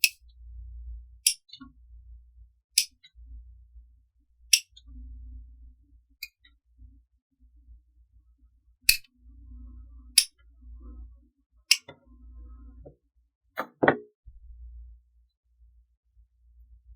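Scissors cutting off decorations for a DIY fall wreath, sharp crisp snips spaced a second or two apart over quiet low handling noise, near and clear.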